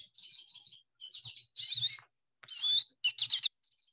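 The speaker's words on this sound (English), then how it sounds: "Do you hear his happy little song? It's the goldfinch." Bright, twittering goldfinch song in quick bursts of high chirps and trills, with short pauses between phrases, clear and fairly close.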